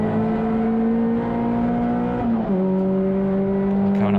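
Onboard engine of a CSCC Tin Tops touring race car lapping Thruxton circuit, a loud sustained drone that holds steady, drops in pitch with a gearchange, then carries on strong and close.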